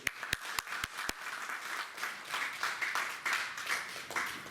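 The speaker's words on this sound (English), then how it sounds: "Give them all a round of" Audience applause at a council mayoral inauguration ceremony in Australia after a national anthem performance by a band, beginning with a few sharp separate claps and swelling into a steady, moderately loud wash of clapping.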